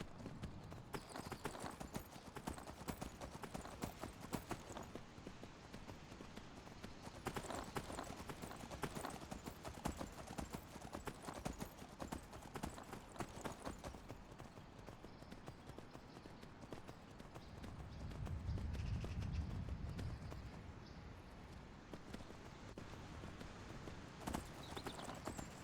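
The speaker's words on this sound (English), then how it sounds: "That's my horse now." Horse hooves clip-clop steadily in the Skyblivion video game, a rhythmic run of close hoofbeats with a louder low rumble near the end and faint talk in places.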